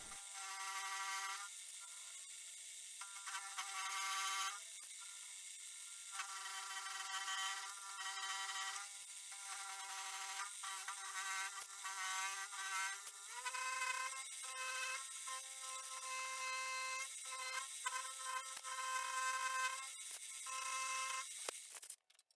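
A milling machine, fed by hand, cuts a pocket in a part for a sat nav mount, giving a steady high-pitched whine with shifting cutting chatter and brief dips as the feed changes, with no talking.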